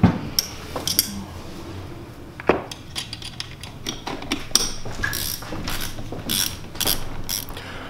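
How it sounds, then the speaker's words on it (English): A wrench tightens the battery cables of a winch mounted on a trailer, giving quick ratcheting clicks and small metallic clinks in uneven bursts, close up with no talking. "Just gonna go ahead and tighten down the battery cables and we should be good to go."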